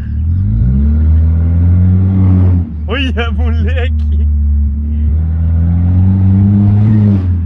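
An Audi's engine revs up and settles in neutral while rolling, its exhaust tone rising and falling loudly throughout, with someone speaking briefly over it and a squeaky sound in the middle.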